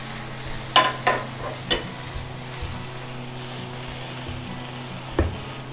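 Boiled masoor lentils are stirred into fried onions in a pan for a Bengali dal bhorta, giving a few sharp spoon scrapes and knocks early on and one more near the end over a low, steady pan sizzle.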